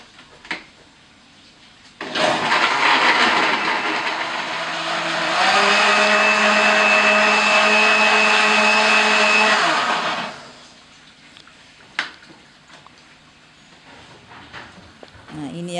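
An electric blender whirs loudly for about eight seconds, grinding turmeric and temulawak roots into a traditional Nias herbal remedy. The motor pitch steps up midway, and a few clatters sound before and after it.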